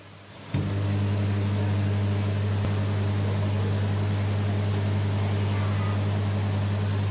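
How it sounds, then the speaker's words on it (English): A microwave oven cooking tadka hums steadily after a click starts it, a constant low drone with fan noise running throughout. "Now I am going to make this tadka in my microwave for 2 minutes"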